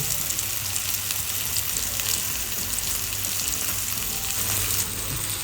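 Bangda (Indian mackerel) fish frying in oil in a pan gives a steady, dense sizzle that crackles continuously at an even level throughout, close up and with no voices.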